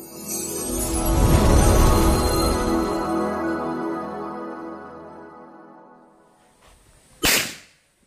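Gunshots at a firing range: a loud report with a long ringing decay comes first, then after a quiet stretch a second sharp, close crack near the end.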